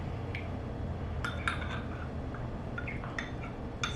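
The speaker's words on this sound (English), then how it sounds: "So just try to scoop out your strawberries." A spoon scoops strawberries from a bowl with liquid, giving soft wet scrapes and a few small clinks against the bowl, close and quiet, with no talk.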